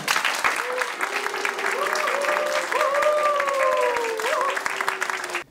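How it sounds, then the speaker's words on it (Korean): Loud, steady applause from an audience at a Korean job-training program event for discharged military officers, with a clear tonal melodic line running over the clapping throughout. "힘찬 박수로 부탁드리겠습니다."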